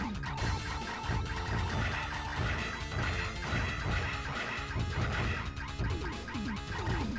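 Arcade shooter Andro Dunos, 1992 Visco: a boss's glass dome takes repeated shots and smashes, heard as loud, dense, continuous crashing and impact noise layered with game music throughout, with no voices.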